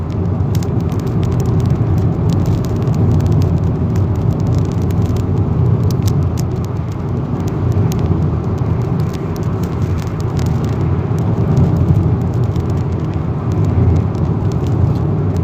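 Hyundai Accent Blue driving on an open road at night, heard from inside as a steady, loud cabin drone of engine and tire roar that holds constant throughout with no talking.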